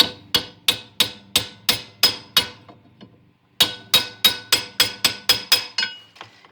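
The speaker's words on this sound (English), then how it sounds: "I'm gonna grab this and my hammer" A hammer tapping a motor coupler onto a Whirlpool direct drive washer: two bursts of sharp, ringing metallic taps, about eight strikes each in a steady rhythm, separated by a brief pause, loud and close with no talking.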